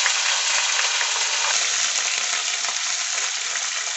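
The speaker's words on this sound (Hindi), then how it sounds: "अब ये देखो ये जो डाटा जो है उसको फ्राई करना है" Vegetables frying in a pan give a steady, loud, dense sizzle that holds evenly from start to finish, with faint stirring textures and no voices.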